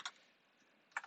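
A few quiet keystrokes on a computer keyboard, one click at the start and a small cluster at the end with near silence between.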